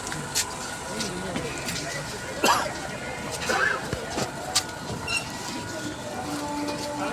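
The Shantipur local passenger train rumbles and clatters at crowded Shantipur station in Nadia, West Bengal, India, with scattered metallic clanks, a brief squeal, and crowd noise and voices around it.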